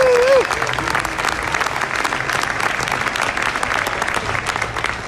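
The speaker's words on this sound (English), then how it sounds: "So let's give a nice big round of applause to Senate President Karen Spilka" Audience applause fills a bill signing ceremony for a student opportunity act, steady dense clapping from a large crowd, loud and continuous after a brief voice at the start.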